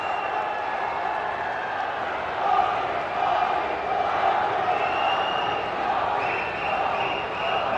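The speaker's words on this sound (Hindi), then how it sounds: "जोरदार तालियों से स्वागत माननीय प्रधानमंत्री जी का।" At a government highway inauguration event in Haryana, a large crowd welcomes the Prime Minister with sustained, dense applause and cheering, a steady wash of clapping that continues throughout.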